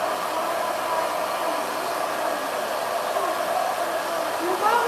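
A hair dryer fitted with a diffuser blows on curly hair, a steady close whooshing roar that holds even and unbroken throughout.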